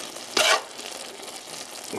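Food fries in a pan on a gas stove, uncovered, with a short loud burst of sizzling and stirring near the start, then a steady low hiss and a faint rise at the end.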